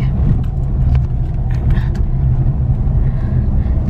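A car idles and rumbles as it is parked outside a cremation ground, a steady low engine drone filling the scene with faint clinks on top.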